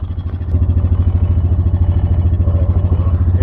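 A side-by-side utility vehicle's engine idles, then revs and pulls away, a loud, close, steady pulsing mechanical chug with rattling clatter throughout.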